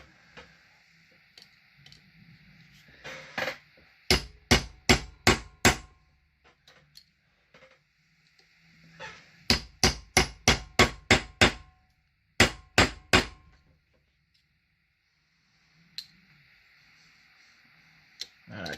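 Rivets being hammered on a McCulloch Model 77 carburetor on a workbench. Three quick bursts of sharp, ringing metallic taps, four to six blows each, come with pauses and quieter handling noises between them and a faint voice nearby.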